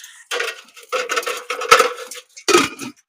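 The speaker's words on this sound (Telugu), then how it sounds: "బెటర్ అది మూత పెట్టు." A lid is set onto a cooking pot while sweet laddus are made: a few close metallic clanks and rattles in short separate bursts, with quiet gaps between.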